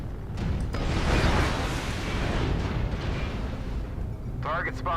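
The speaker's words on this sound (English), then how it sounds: "Warning, incoming missile." Missile explosions in the video game MechWarrior Online: dense, rumbling blasts and booms rolling together for several seconds, loud and continuous, with a brief voice near the end.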